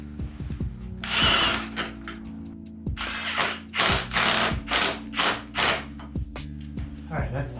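A power tool snugs down fasteners during a 7-inch ON3 cooling upgrade on an N54 engine. It fires about eight short, loud ratcheting bursts separated by brief pauses.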